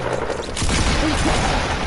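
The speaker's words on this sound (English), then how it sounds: "Why are you shooting with a shotgun from long range?" A shotgun is fired from long range in a PS4 video game, giving a sudden loud blast that swells into dense, rumbling gunfire noise over about two seconds.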